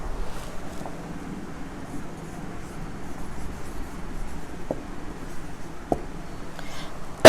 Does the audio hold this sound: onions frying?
no